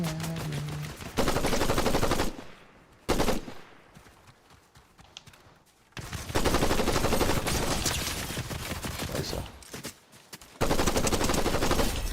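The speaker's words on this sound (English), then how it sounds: "There's already somebody shooting at me." Rapid bursts of gunfire in a video game, loud and dense with short pauses, returning in several heavy volleys across the stretch.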